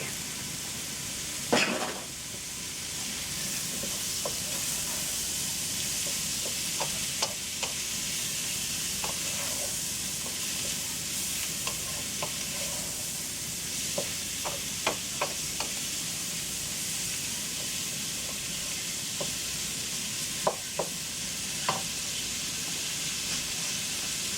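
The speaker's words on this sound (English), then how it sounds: "I'm going to put it right here in with the onions and the peppers to brown a bit" Sausage browning in a pan with onions and peppers for a sausage pilau, giving a steady close sizzle throughout with scattered soft clicks and scrapes of stirring.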